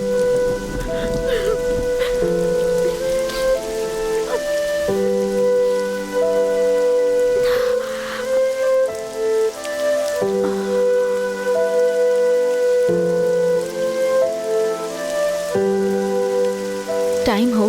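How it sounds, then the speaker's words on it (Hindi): Heavy rain falls steadily as a continuous hiss, with occasional rumbles of thunder, under a loud, sustained musical score. "बारिश हो रही है बेटा"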